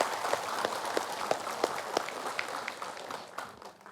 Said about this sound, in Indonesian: Tepuk tangan untuk Tetelis Indriani.